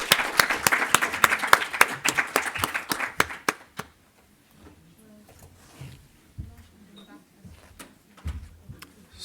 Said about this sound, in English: a final round of applause for our panelists